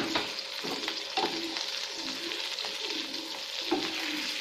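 Pieces of a leftover roti snack browning and crisping in a lightly oiled pan, with a steady close sizzle broken by frequent stirring clicks and scrapes.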